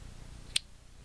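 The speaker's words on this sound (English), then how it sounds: "Then take your scissors," A single sharp snip of scissors cutting crochet yarn, brief and crisp against a quiet room background.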